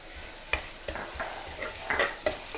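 Prawns are sautéed with chili powder and crushed pepper powder in a pan, a soft sizzle under repeated scraping stirs that come in short irregular strokes close by, with no talking.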